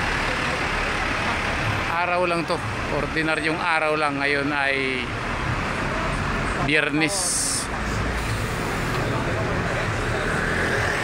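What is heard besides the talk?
heavy evening traffic on Nathan Road, Hong Kong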